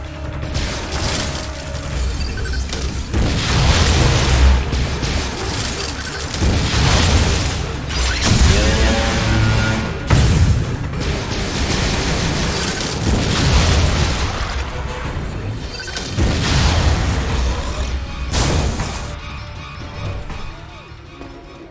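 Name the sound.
missile fire and explosions in Metroid Other M video game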